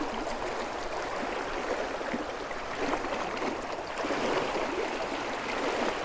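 Swift water on the upper Rappahannock River rushes steadily around a boat, a continuous close churning wash with light gurgles and no talking.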